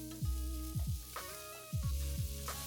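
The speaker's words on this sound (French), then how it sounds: "dans une casserole à feu moyen, avec une cuillère à soupe d'huile, faire revenir l'oignon, la carotte et la pomme de terre 5 minutes" Onion, carrot and potato frying in a tablespoon of oil in a saucepan over medium heat, a steady sizzle broken by repeated clattering stirs of a spoon, close and fairly loud with no talk.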